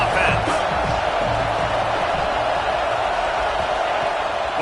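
Roaring stadium crowd noise from a college football video game, loud and sustained, a steady wall of cheering with no talk over it.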